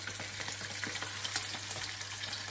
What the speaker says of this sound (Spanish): Ya tenemos el aceite caliente, pues echamos nuestro pollo.